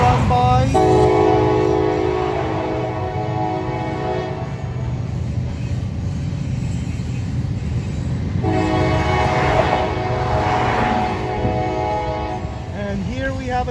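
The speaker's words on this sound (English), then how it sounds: "And here we have a train coming with some intermodal flat cars." A Norfolk Southern freight train with intermodal flat cars passes a railroad crossing in Duluth, Georgia. Two long, loud blasts of the horn sound over a steady close rumble of the rolling train.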